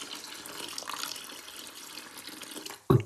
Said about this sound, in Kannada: ಇದರಲ್ಲಿ ಒಂದು 300 ml ವರೆಗೆ ನೀರು ಹಾಕೋಣ.